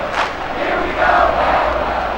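Home crowd noise in the MLB 2K5 baseball video game, Pittsburgh Pirates versus Houston Astros: a broad steady roar of a stadium crowd that swells slightly midway, with no commentary over it.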